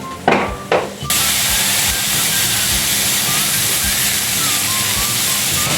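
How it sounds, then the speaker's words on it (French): Beef burger steaks cook in a pan with a steady, loud sizzle and hiss that carries on without a break, after a couple of short bursts at the start. "là on est en train de faire cuire les steaks"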